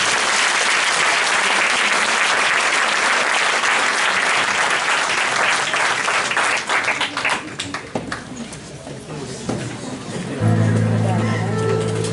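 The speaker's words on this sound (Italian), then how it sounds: "Facciamo un applauso a Lui." A church congregation breaks into loud, dense applause during a sermon on spiritual weapons, the clapping swelling then thinning out after several seconds as murmuring voices and other sounds take over.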